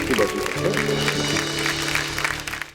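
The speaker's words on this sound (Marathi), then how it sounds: "एकदा त्या मैत्रिणींसाठी एकदा टाळ्या झाल्या पाहिजे" An audience at a Marathi women's television show claps for a group of friends, a dense burst of applause under a loud host voice, fading slightly toward the end.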